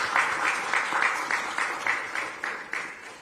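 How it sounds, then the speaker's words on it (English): Clapping for a technical committee at a formal bill-submission event for the Zambian president: about a dozen strong, regularly spaced claps in an even rhythm, fairly close and fading slightly toward the end. "I would like us to clap for the team at this stage."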